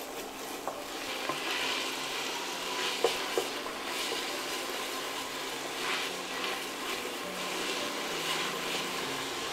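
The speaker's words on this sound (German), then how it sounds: "erwärmen unseren Topf und geben da schon einmal unsere Zwiebel hinein. Das rühren wir gleich um." Onions sizzling in a heated pot as they're stirred, a steady quiet frying hiss broken by occasional soft scrapes and clicks of the spoon, no talking.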